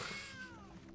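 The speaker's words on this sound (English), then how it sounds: "When we got this card, it meowed." A cat card in the video game MTG Arena lets out a single short meow, a clear, slightly falling cry lasting under a second.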